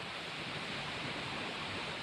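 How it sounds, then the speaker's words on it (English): A fast-moving creek rushes steadily, a dense broadband wash of water that stays close and constant with no pauses and no voices. "This water's moving pretty fast."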